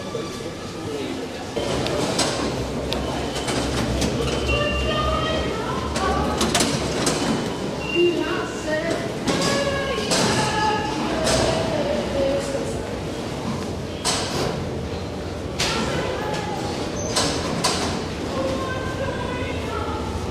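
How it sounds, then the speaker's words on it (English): Metro train at Saint-Lazare station in Paris, a loud steady rumble of rail noise with squeals and clatter throughout, close by, while people talk nearby. "We're at Saint Lazare metro station."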